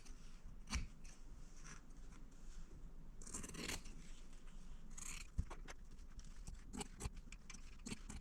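Scissors trim quilt fabric pieces with quiet, intermittent snips and soft rubbing of cloth. The cuts come as scattered sharp clicks in a hushed room.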